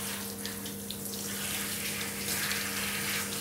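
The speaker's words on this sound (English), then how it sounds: "It's so important that you take your time to rinse the mud out really well from the hair." Running tap water rinses clay mud out of hair, a steady soft splashing flow over a low hum, close and continuous without speech.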